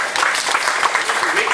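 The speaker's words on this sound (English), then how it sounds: "Give a big round of applause first." Audience applause at a business presentation event, a steady burst of many hands clapping throughout, fairly loud and close.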